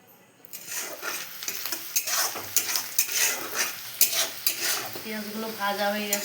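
Chopped onions fry in hot oil with cumin and cardamom in a village kitchen, a continuous sizzle broken by repeated scraping strokes of a spoon stirring the pan, close and clear with no talking.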